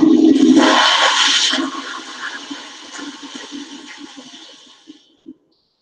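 A toilet flushes loudly and close, starting with a strong rushing surge of water that tapers into a gurgling drain and refill and then cuts off, with no talking.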